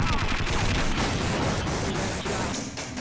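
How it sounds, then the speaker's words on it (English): Automated turret system in the Half-Life video game firing a dense, continuous barrage of rapid gunfire, loud and close, sustained for the whole stretch before easing slightly at the end. "We activated the turret system."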